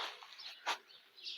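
Faint birds chirping outdoors in the Cypriot countryside, a few soft scattered calls and one brief louder chirp in the middle against a quiet background.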